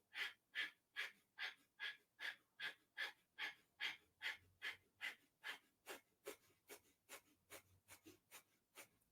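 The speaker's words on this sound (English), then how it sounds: "and begin breath of fire." Breath of fire during a Kundalini yoga class: about twenty rapid, even, forceful nasal exhalations in a steady rhythm, close and alone, easing slightly toward the end.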